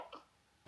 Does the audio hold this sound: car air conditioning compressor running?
no